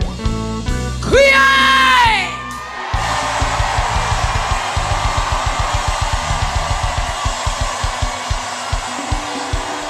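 Worshipping congregation in a church service, voices crying out together in a loud sustained roar, then a steady rhythmic pulse of clapping or drumming beneath the noise.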